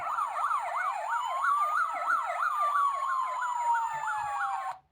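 Fire engine siren from a button on a children's transport sound book, a bright electronic wail cycling rapidly with a slower sweeping tone layered over it, loud and close for about five seconds before stopping.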